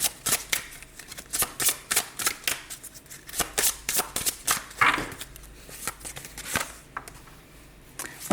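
Tarot cards are shuffled for a reading in a rapid series of crisp riffling snaps and soft slaps, close and distinct, with irregular bursts repeating over several seconds.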